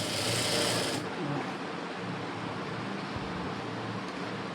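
A sewing machine runs continuously close up, stitching a blouse crosswise with a steady buzzing whir and a brighter burst at the start.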